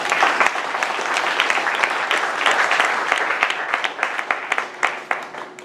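A church congregation bursts into applause for Jesus, a dense burst of many hands clapping throughout a large room that thins into scattered separate claps toward the end.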